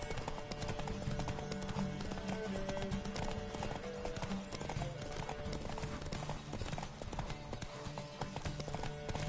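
A horse gallops during a race in The Witcher video game. Rapid, steady hoofbeats drum continuously under background music and game sounds.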